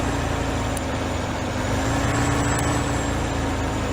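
A Peterbilt truck drives in Farming Simulator 15 on the Nebraska map, a steady, even engine drone with a constant low rumble and faint high whine, no voices.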